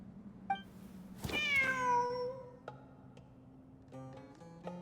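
Cat meowing in the Genshin Impact video game: one long, clear, gliding meow in the middle, with a short chirp before it and soft game tones and ticks around it.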